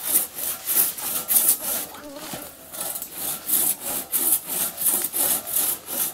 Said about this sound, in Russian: У вас пила как-то идет боком больно